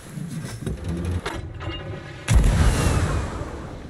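Cannon fire in a pirate video game: mechanical clanks and thuds, then a sudden heavy boom and rumbling blast about halfway through, with no talking.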